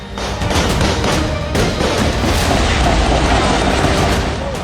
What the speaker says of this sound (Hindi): फायरिंग की आवाजें